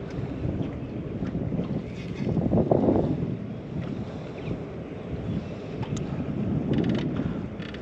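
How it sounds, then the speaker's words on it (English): Wind gusting over the Brisbane River while someone fishes from a boat, a steady roaring rumble that buffets the microphone and swells in waves, with faint mechanical knocks underneath and no speech. "it's a pretty crap day at the moment with the wind and everything"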